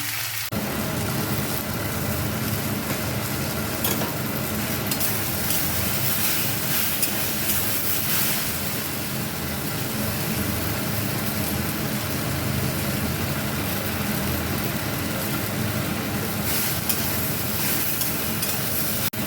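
Vegetables and water spinach with salt, turmeric and green chillies fry in a pan with a dense, continuous sizzle, loud and close, holding steady for the whole stretch with no talking.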